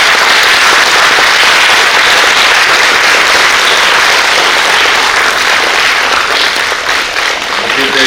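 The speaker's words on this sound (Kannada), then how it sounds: "ಚಪ್ಪಾಳೆ ತಟ್ಟೆ ನಾವು" A large gathering at a university event at Mangalagangotri, Mangaluru, applauds loudly, with sustained, dense clapping close and strong throughout, easing slightly toward the end.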